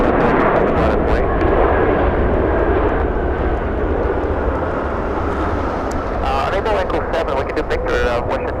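A jet airliner roars continuously on its takeoff run from runway 24 left at Los Angeles International Airport, loud and steady throughout, with air traffic control radio talk heard over the engine noise.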